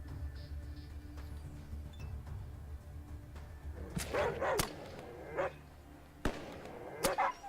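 In the video game Atom RPG, a dog yelps and barks while taking damage, several short sharp cries mixed with hits over a low steady game drone.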